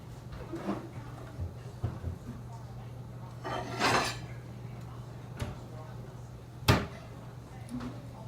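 Someone in a home kitchen takes out a plate, making a few scattered clinks and knocks of dishware and a cabinet thump. The sounds are close and sparse over a steady low hum.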